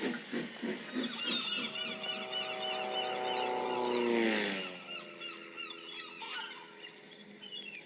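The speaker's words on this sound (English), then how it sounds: "That plane's making a great deal of noise about something, said Percy to Oliver." A Tiger Moth plane's engine drones overhead in a buzzing harmonic whine, loud and steady, its pitch sliding downward as it passes midway and then fading somewhat. No one talks.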